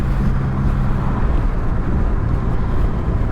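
A Triumph Rocket 3 GT Storm motorcycle cruises a New Zealand back road in a high gear, its engine a loud, steady, close drone with no gear changes.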